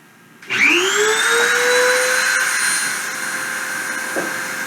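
A machine spindle ramps up to 10,000 RPM for deposition: a loud whine surges in and climbs quickly in pitch, then settles into a steady, sustained tonal hum with bright overtones, slightly easing in level near the end, with no talking.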